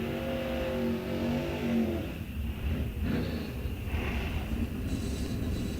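A drag racing car at an NHRA event blasts down the strip, a loud engine roar with a fast rising pitch sweep, then rough mechanical rumble and crowd-level background as it runs through.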